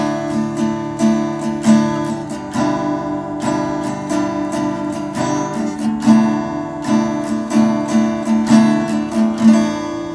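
An acoustic guitar strums a slow worship-song pattern, steady rhythmic down and up strokes ringing clearly, close and alone without talk.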